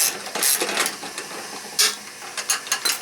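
A 1/2 inch socket wrench loosening a nut on a 42-inch Husqvarna mower deck, giving quick bursts of ratcheting clicks in irregular strokes, close and alone.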